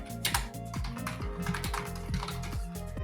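Rapid keystrokes clatter on a computer keyboard as a shortcut is typed, a close, steady run of clicks over background music.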